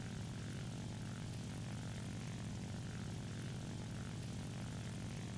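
A propeller engine of a J2M3 fighter drones steadily and loudly in War Thunder, a constant dense roar with no breaks and no speech.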